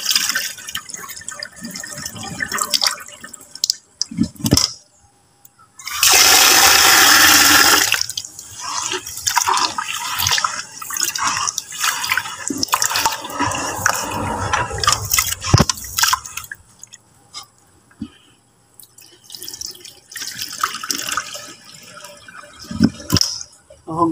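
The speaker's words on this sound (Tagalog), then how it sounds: "Uugasan ko pa ito ng maraming beses." Uncooked rice being washed in water, with splashing, swishing and pouring that comes in bursts, including one loud sustained rush of water partway through, and faint dripping and handling noises between them.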